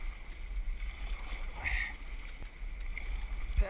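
Canoe paddled on a river, with soft water splashes and strokes under steady wind noise, plus a brief louder knock near the end; no one talks.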